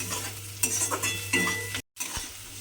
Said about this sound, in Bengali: দিয়ে একটু নাড়াচাড়া করে রসুনটাও ভেজে নেব